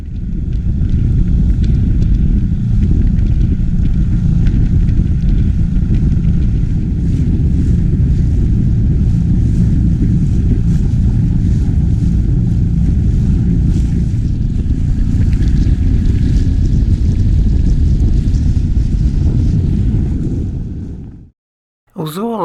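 A small boat motors steadily across the sea toward reefs and narrow channels near the Isle of Mull, its low engine drone and rushing water loud and constant, with heavy wind buffeting before cutting off abruptly at the end.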